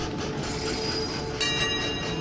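Trains rolling along rails in the video game Train Valley, a steady mechanical rumble of wagons with a bright metallic squeal of wheels rising partway through, continuous and fairly close.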